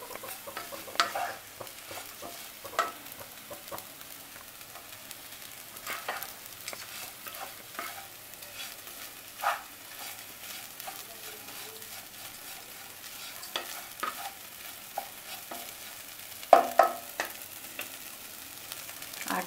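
Chopped green chillies stir-fry in a pan for Maharashtra-style poha, a low steady sizzle with intermittent scraping stirs and a few sharper clinks near the end, no talking.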